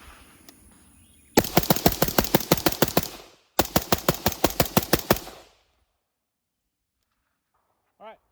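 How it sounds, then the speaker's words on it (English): A rifle fitted with a KAK bolt carrier group empties half a magazine in two fast, evenly spaced strings of close, loud shots separated by a brief pause, then silence. "I'm going to put about a half a mag down range really quickly"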